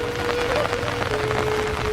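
Steady rain falls on a foggy February morning in Iroquois Park, a dense even patter close by with a faint tonal hum running underneath and no talking.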